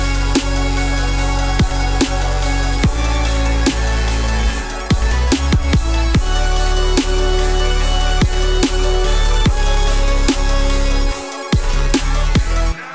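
Dubstep track built in Ableton, with the bass sidechained to the drums so it ducks on each hit. Steady drum hits pump through loud, continuous full-range music, and there is a brief drop near the end.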